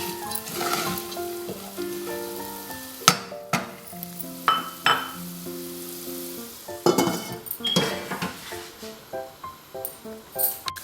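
Corn grit cooking in a pan for makai kheer, soft sizzling with intermittent scraping clinks of a spoon stirring, over quiet background music tones.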